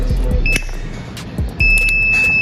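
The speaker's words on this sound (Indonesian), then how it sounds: "Lalu buzzer akan berbunyi secara kontinu selama 500 mili-detik." An electronic buzzer on a homemade automatic fan project emits steady high beeping tones, two sustained bursts sounding clearly over a low background hum.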